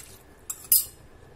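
A spoon stirs risotto sauce thickened with cornflour in a pan, giving two short metallic clinks close by against otherwise quiet background, with no talking.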